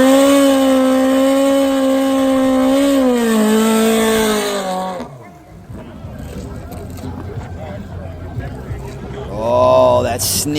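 Nitrous-fed street-tire drag bike, such as a Hayabusa or ZX14, on a grudge race run: a loud, sustained high-revving engine scream that cuts off abruptly, followed by crowd noise and a brief engine rev near the end.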